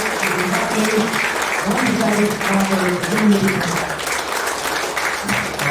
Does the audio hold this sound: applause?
yes